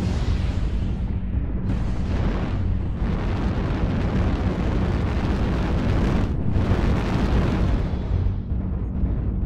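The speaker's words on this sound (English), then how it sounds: "Artillery strike online." Heavy, continuous rumbling blasts from a video game artillery strike roll on for the full stretch, loud and dense with repeated booming surges and no talk over them.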